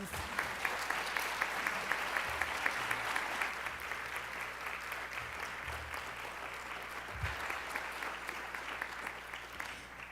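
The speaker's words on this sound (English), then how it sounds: "Give them a round of applause." At a school board meeting, the audience gives a round of applause for high-achieving students. The steady crowd clapping lasts about ten seconds, is faint and distant, and slowly thins out toward the end.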